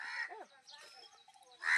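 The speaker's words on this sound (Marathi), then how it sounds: "कावळा काव करतोय." A crow caws near a fig tree as its fruit is being picked. Harsh calls sound at the start and again loudly at the end, with faint voices in between.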